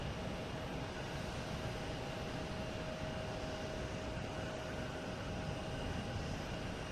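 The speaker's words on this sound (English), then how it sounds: "we got 15 right, clear for takeoff, which is a JetBlue A321 heading to Portland" A JetBlue Airbus A321 jet airliner rolls for takeoff at Boston Logan Airport, a steady broad engine roar heard from a distance with no voices.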